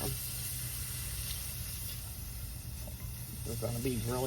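Onions sizzle steadily in a hot pan as they are stirred and cooked for a wine reduction sauce, a continuous close frying hiss with a faint voice near the end.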